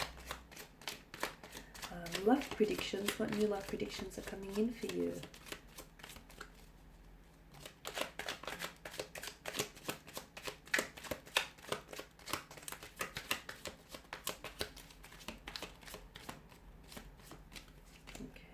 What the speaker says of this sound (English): So I'll give the cards a shuffle here